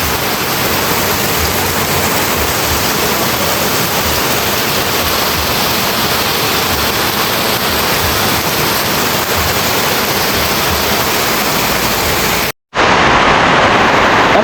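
Heavy nonstop rain in Bicol, a dense, loud, unbroken roar of downpour throughout, briefly cut off near the end before resuming.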